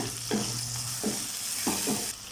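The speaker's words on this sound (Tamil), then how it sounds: "தக்காளி சேர்த்து நல்லா மிக்ஸ் பண்ணிடலாம்." Tomatoes fry with mutton in a pan, a steady hiss of sizzling under several slow scraping stirs of a spoon, close and fairly quiet, with no talking.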